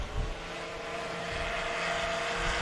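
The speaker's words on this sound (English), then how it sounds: "Watch what he can do with this airplane. You're going to hear it just make a lot of noise." A STOL airplane roars loudly through a takeoff run at a Pony Express STOL competition, with a steady, broadband propeller-engine drone that holds and slowly swells across the clip, close and alone.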